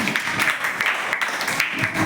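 A classroom of students claps for a classmate after a debate competition practice, a brief, steady burst of hand claps at moderate volume.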